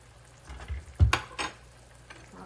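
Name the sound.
ghee added to hot pan of dhokar dalna, sizzling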